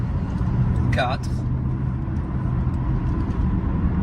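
A race car at Dijon-Prenois circuit accelerating out of a corner, its engine a steady roar from inside the cockpit, with a person briefly speaking over it.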